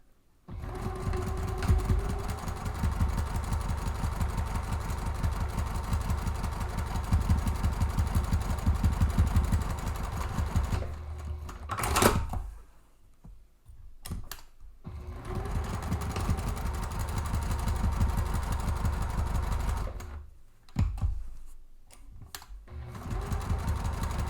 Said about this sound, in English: you'll run the 2 rows of top stitching across that